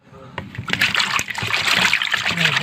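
Meat being washed under running water in the kitchen, splashing and trickling that starts abruptly and continues steadily close by.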